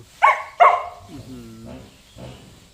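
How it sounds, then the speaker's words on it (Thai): A dog gives two sharp, loud barks close by, then low growling and snarling rumbles follow, with a final short growl near the end. "ไอ้เจ้าด้าได้แต่เห่าขู่อย่างเดียว"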